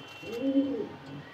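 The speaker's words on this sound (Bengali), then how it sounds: "এইখানে দেখতে পাচ্ছেন এক জোড়া পিওর আফসান গ্রিজেল রেসার হুমা কবুতর" A pair of big pure Afsan grizzle racer homing pigeons: a single soft, rounded coo rising and falling over about half a second, close by, over faint background noise.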